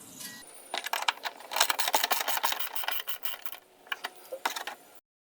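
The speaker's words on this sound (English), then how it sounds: "grab the sides of it and move it back and forth to break it loose, and then lift it out" An ABS wheel sensor is rocked back and forth and pulled from its bore, giving close, scratchy scraping and rattling with irregular gritty bursts, clear of talk.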